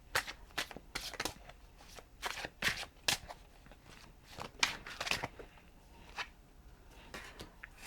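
Tarot cards shuffled by hand in a quiet room, a run of crisp riffling bursts and soft slaps repeating every half second or so, close and fairly faint with no talking.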